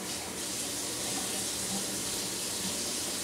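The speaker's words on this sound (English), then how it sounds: "We add a little bit more water." Water pours into a cooking pot on a stove set to high heat, a steady hissing rush that runs unbroken and fairly loud throughout.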